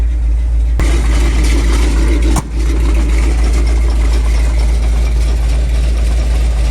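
A 1978 Ford F150's engine runs steadily with the transfer case in 4 low and the driveshaft spinning, a loud, constant mechanical drone with a brief clunk early on and a short dip midway.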